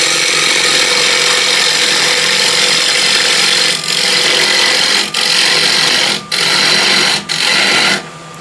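A square scraper cutting a side-grain wooden bowl spinning on a lathe, a loud, steady buzzing scrape that runs for seconds and briefly drops out several times near the end as the tool lifts.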